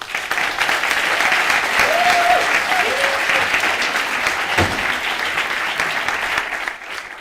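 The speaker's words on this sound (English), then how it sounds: "So thank you to give them some applause." An audience at a national assembly in Frankfurt claps after a Q&A session, a dense, steady round of applause from a sizeable crowd that holds for several seconds before slowly thinning.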